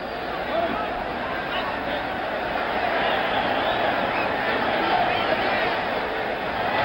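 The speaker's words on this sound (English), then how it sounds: "This crowd now chanting" A large 1977 boxing-arena crowd during the George Foreman vs Jimmy Young heavyweight fight, a steady roaring chant and hubbub filling the whole stretch, with a commentator talking over it.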